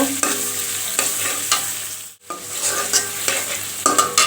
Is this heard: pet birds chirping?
no